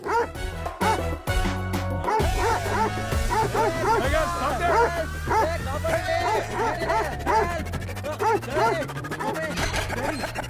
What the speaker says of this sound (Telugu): లేదు డాడీ, కుక్కలంట పడుతున్నాయి